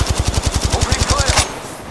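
A rapid automatic weapon fires in Apex Legends Mobile, a steady stream of loud close shots for about a second and a half that then cuts off.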